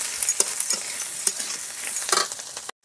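Onion frying in a pan with oil, a steady sizzle broken by a few sharp crackles and stirring clinks, close and continuous with no voices.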